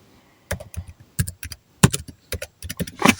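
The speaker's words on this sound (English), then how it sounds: "Sorry if you hear me typing." Quick bursts of typing on a computer keyboard, clusters of sharp clicks separated by short pauses, close by.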